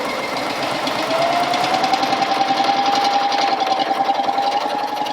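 Coverstitch serger machine sewing binding onto fabric through a binder attachment, running steadily with a fast, even mechanical chatter and a faint rising whine, close and loud from start to finish.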